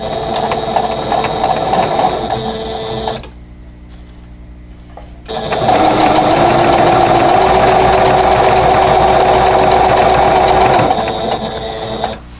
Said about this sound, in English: match up my raw edges and stitch with my usual 1/4 inch seam